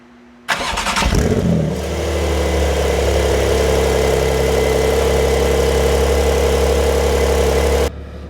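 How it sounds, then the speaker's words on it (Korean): A Porsche 911 engine cranks and catches with a loud burst, then settles into a steady, close idle that runs alone until it cuts off near the end. "이제 시동을 걸고 한번 주행을 하면서 이제 말씀을 드리겠습니다."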